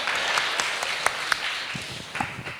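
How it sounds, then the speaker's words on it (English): Seated audience at a panel discussion claps in dense, steady applause with a few sharper individual claps standing out, moderately loud and continuing throughout. "I think we can clap to that."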